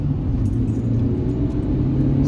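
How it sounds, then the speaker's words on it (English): A 2018 Dacia Duster dCi diesel running loud and close from inside the cabin, a steady low engine rumble that holds throughout the short stretch of acceleration through the gears, with no talk. "I'm going to move fast. First gear, second gear"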